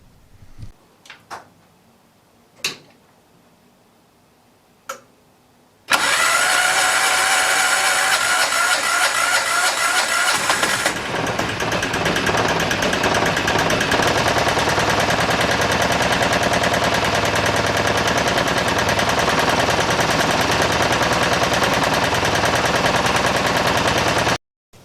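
A Piaggio Ape three-wheeler's diesel engine, freshly primed after a fuel leak fix, cranks after a few knocks and clicks, then catches and runs steadily at a loud, close, rattling idle for the rest of the stretch.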